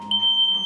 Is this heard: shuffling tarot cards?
no